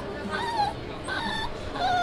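A dog whimpers in a row of thin, high wavering whines, near and moderately loud, with people talking underneath.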